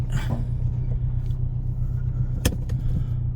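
A Peugeot 208 GTI rumbles low and steady as it rolls, with a brief scraping squeal from its rusty brakes near the end.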